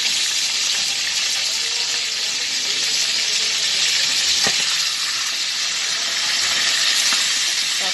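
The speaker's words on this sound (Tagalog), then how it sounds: "nagprito tayo ng tulian" Tulingan fish sizzles and crackles steadily in hot oil in a pan, a constant close frying hiss with occasional pops.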